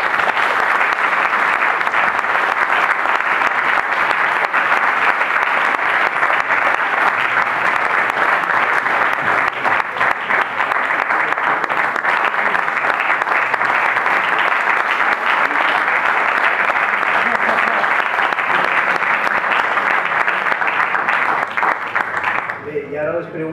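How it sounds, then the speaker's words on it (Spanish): An audience applauds Carlos Taibo after a talk on the TTIP at a Les Rutes de la Xara 2015 event, a sustained, loud wash of clapping that holds evenly for over twenty seconds before tapering off. "moltes gràcies i un aplaudiment fort per a Carlos"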